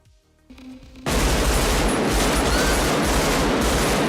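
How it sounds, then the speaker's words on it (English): A short quiet moment, then a dense, continuous roar of rapid gunfire from a film shootout, recorded live, erupts and stays loud to the end. "The gunshot sound was captured live."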